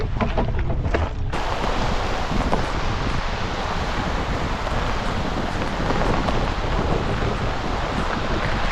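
Steady rain falls at a lakeside campsite on a canoe and fishing trip, a dense, loud, continuous hiss that swells sharply after the first second and then holds, with wind buffeting the microphone.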